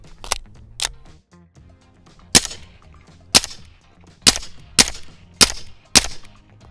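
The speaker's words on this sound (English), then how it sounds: "Obviously that subsonic ammo is gonna sound great." Suppressed Staccato P pistol firing subsonic 147-grain 9mm, eight sharp muffled shots in an uneven rhythm, close and distinct against a quiet background.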